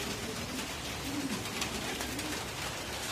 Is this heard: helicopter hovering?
no